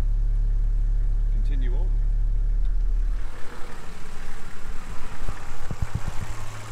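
A 4x4 engine drones low and steady as the vehicle rolls down the Rats Castle track in Sundown National Park, with rough rumbling and bumps later on and someone talking over it.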